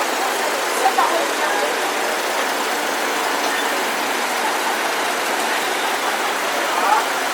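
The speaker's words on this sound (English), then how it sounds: "And the Fordson towing a threshing machine" Vintage Fordson tractor engine at a steam and vintage machinery show, towing a threshing machine, giving a steady, continuous broadband rumble that holds level throughout with no clear breaks.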